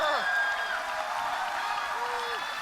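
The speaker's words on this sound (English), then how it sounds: "Give him a round of applause." Audience applause and crowd noise after an amateur fight bout: a steady wash of clapping that holds evenly throughout, with voices mixed in.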